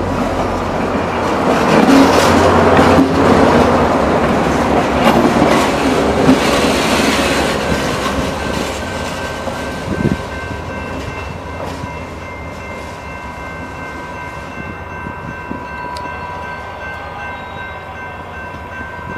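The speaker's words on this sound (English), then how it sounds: "I rode this train at 6:35 from Berlin, all the way out here." A Rail Runner commuter train riding to Santa Fe, heard from on board as a loud, rumbling roll that later settles into a steadier hum and tonal whine, with faint rail clatter.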